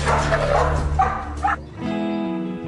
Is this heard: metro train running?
no